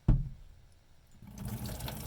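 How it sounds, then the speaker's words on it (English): After a sharp initial clunk and a brief pause, water from a jug pours into a sink to rinse sharpening residue off a Benchmade Mini Griptilian knife, a steady splashing flow building through the second half. "I just want to rinse this residue away real quick."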